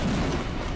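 Gunfire in a Roblox horror game: a dense, loud burst of low booming shots that fills the whole moment without pause.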